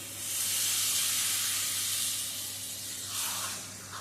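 Water poured into a hot pan of frying spices bursts into a loud, steady hiss and sizzle that holds for several seconds, dips, then flares briefly again.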